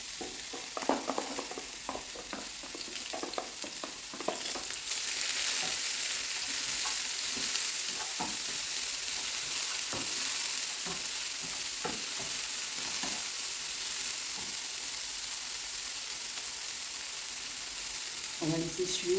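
Chopped onion, parsley and chili sizzle steadily in hot olive oil in a pan, a continuous bright hiss with occasional clicks of stirring, faint voice murmurs early on.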